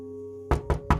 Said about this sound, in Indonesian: Langsung saja aku mengetuk rumah itu.